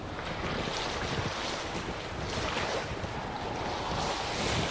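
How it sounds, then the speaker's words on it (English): Loud, continuous rush of wind with a flapping, fluttering texture of sails and water noise beneath, no voices, in the video game The Witcher 3: Wild Hunt. "Sails fluttering."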